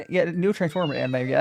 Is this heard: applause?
no